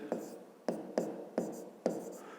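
Pen or pencil strokes on paper as a math equation is written out by hand, five short, close scratching taps in an uneven rhythm, quiet and alone.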